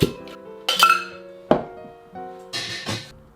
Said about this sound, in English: get your cocktail shaker and put in 4 to 5 ice cubes